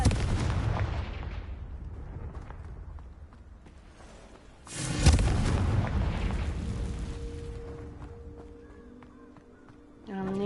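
A booming Confringo spell explosion in Hogwarts Legacy erupts midway through a rumbling battle, a loud blast that rolls off slowly into a lingering roar, with a voice speaking and brief chimes later.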